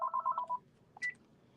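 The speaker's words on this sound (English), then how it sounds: "sorry about the phone there." A telephone chirps with a short run of rapid electronic tones that fades, then one brief higher blip, sounding in a quiet indoor room during a talk on medicine.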